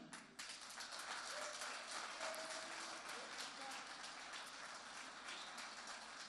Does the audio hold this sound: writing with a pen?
no